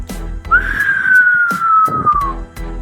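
A single shrill whistle glides gently downward and holds for about two seconds, set over soft background music with occasional percussive hits.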